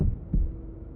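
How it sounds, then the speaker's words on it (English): A heartbeat effect from the Tsukihime visual novel sounds as two deep, muffled thumps, close and heavy, with a low hum trailing after. "My heartbeat explodes."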